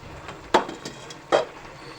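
Lid set onto a cooking pot of curry, two distinct metallic knocks about a second apart, close and moderately loud over faint kitchen background.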